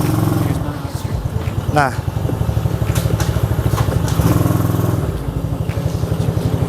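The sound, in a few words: ATV 125 engine running during test drive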